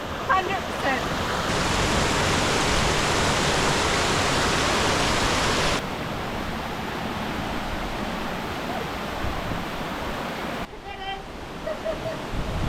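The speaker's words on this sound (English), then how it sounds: "The second week in a row we're going to get sprayed by the bottom of the waterfall." Roaring waterfall at Whiskey Falls in Nelson Lakes National Park, New Zealand: a dense, steady broadband rush that drops in level partway through and stays a constant wash, heard close at the base of the falls.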